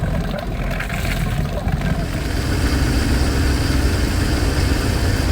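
An old ski boat engine runs steadily at idle, a loud, close, continuous low rumble with a throbbing exhaust note and no pauses.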